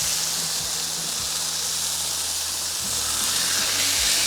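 Smashburger patties sizzle loudly on a Blackstone griddle, a dense steady hiss close up with occasional scraping thumps from pressing and spatula work underneath.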